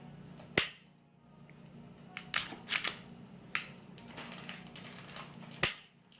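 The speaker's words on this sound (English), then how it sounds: "So the trigger pull on this is very nice." Dry-fire trigger clicks from a Glock pistol fitted with Crimson Trace laser grips, short trigger reset: a handful of sharp, close mechanical clicks spaced irregularly over a low steady hum, no talking.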